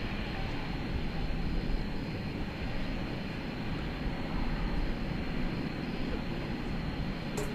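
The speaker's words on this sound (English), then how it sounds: "Flight 711 to Ontario, California, an Airbus A321 is what you're seeing there, about ready to take off." Airbus A321 engines drone at night at DFW Airport as the jet readies for takeoff, a steady, dense rumbling roar that holds at a constant level without pause.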